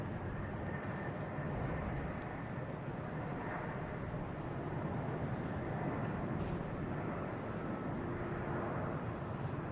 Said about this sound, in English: And we have KLM from Amsterdam.